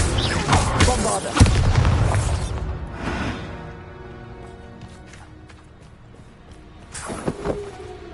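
A Bombarda blasting spell explodes in a Harry Potter video game as a heavy, close boom that rumbles and fades over a few seconds, followed by a second, shorter blast near the end.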